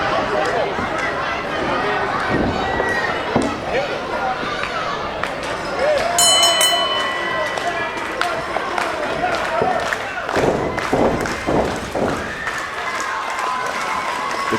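A wrestling arena crowd cheering and clapping for Kerry Morton, a loud sustained roar of voices with scattered claps and thuds beneath commentators talking.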